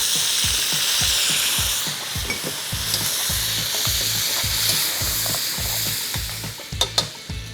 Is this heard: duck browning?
yes